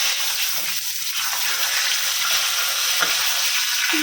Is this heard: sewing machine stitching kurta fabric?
no